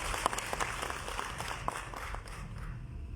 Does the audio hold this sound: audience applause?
yes